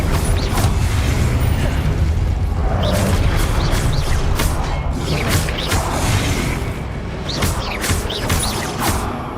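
An Incendio fire spell is cast in Hogwarts Legacy, giving a loud roaring whoosh of flame with booming impacts and mechanical rumbles that stay dense and heavy throughout.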